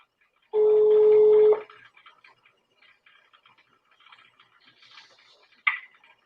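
An outgoing telephone call gives a single steady ringback tone lasting about a second, then the line goes quiet apart from faint clicks and crackle and one short sharp click near the end.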